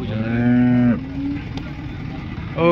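A cow at a cattle market gives a loud, close, drawn-out moo lasting about a second, followed by quieter crowd noise and the start of another low call near the end.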